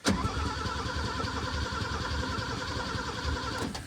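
Mercedes-Benz W123 E-series engine cranks and fires, settling into a steady, loud running rumble for several seconds with a brief starter burst at the start and end, no talking over it.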